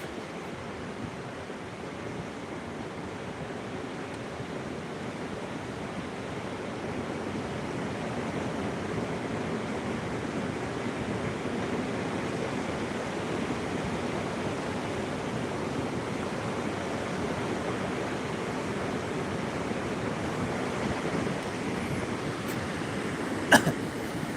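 Ocean waves on a sea shore form a steady, broad wash of surf that rolls on without a break, loud and close, with no voices and a single brief click near the end.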